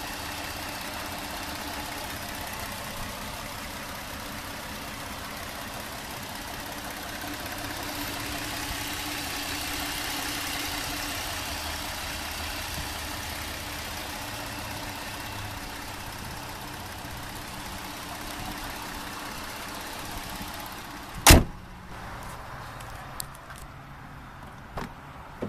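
A 2015 Kia Cadenza's 3.3-liter direct-injection V6 idles steadily with a low, even hum after start-up, heard up close. Near the end comes a sharp loud thud like a hood or door closing, followed by small clicks.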